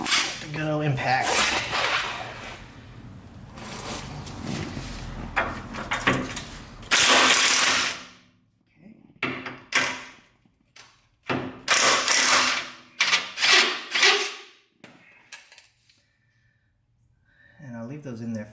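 An impact wrench zipping out 19mm bolts on a vehicle, several loud bursts of rattling hammering with short pauses between, close by, with brief talk between runs.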